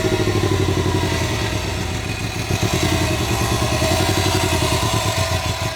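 A Subaru WRX STI engine rumbles loudly and close at low revs while the car backs out of a driveway, a steady lumpy idle with a slight shift in tone partway through.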